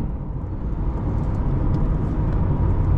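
A 2022 Chevrolet Corvette Stingray 2LT with the Z51 package on the move, its engine and road noise a steady low rumble that swells slightly, heard from inside the cabin.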